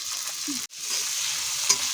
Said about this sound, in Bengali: এবার আমরা পেঁয়াজটাকে খুব ভালো করে ভেজে নেব